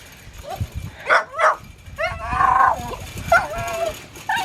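Several puppies yip and bark in high, squeaky bursts, overlapping irregularly at close range.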